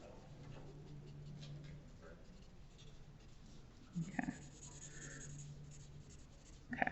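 A pencil draws and shades wood grain lines on paper with soft, quiet scratching strokes that continue steadily, with a couple of louder scrapes.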